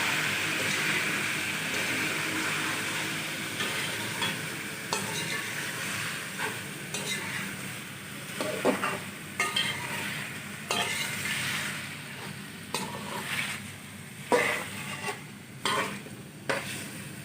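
Chicken and tomatoes being stirred in a karahi for a street-style koyla chicken karahi, a steady sizzle under repeated scraping strokes of a spoon against the pan, close and fairly soft.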